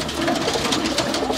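A pigeon in a home loft, thin and unwell, gives a short low cooing call, close and steady over a constant background hiss.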